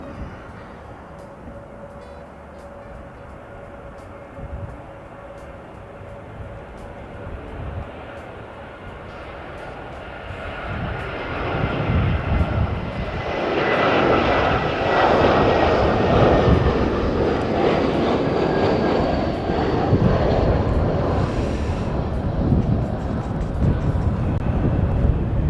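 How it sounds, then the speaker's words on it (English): A Jetstar airliner arriving from Auckland approaches, its engine roar swelling from a distant rumble to a loud, broad, sustained jet noise that holds to the end. "Jetstar 233 coming on from Auckland."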